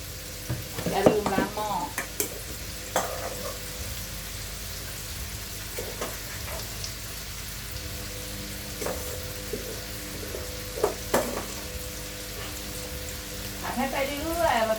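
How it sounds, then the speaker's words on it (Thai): Rice with Chinese sausage is stir-fried in a pan, giving a steady close sizzle with intermittent scraping and clinking of a spatula, while someone talks at times over the cooking. "ผัดให้ไปเรื่อยๆค่ะ"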